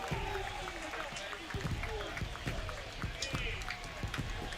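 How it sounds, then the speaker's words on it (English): A baseball video game crowd roars after a home run, a steady wash of cheering and clapping with a commentator talking over it. "And the crowd of 500 is losing their minds."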